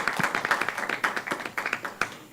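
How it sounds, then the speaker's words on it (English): Scattered clapping from a small audience at a school board committee meeting, a quick run of uneven claps over a couple of seconds at moderate distance, with no talk over it. "we can applaud that"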